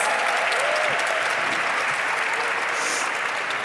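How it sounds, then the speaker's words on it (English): An audience at a live panel discussion event breaks into sustained applause, a dense, even crackle of many hands clapping that continues steadily throughout. "Give her a round of applause."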